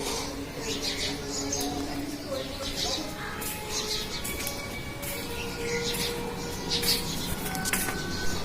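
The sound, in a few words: morning bird calls, parrots sitting on a wire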